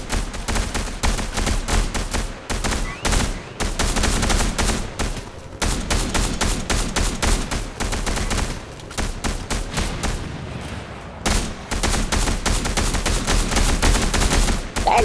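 Continuous, loud Fortnite gunfire, dense rapid shots packed into long automatic strings with only momentary breaks, close and filling the whole stretch.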